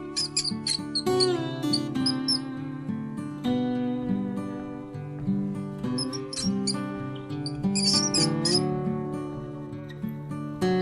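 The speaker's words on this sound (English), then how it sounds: "This is rat." A rat gives high bursts of squeaks in short clusters over a steady tonal backdrop, loud and close, with no talking.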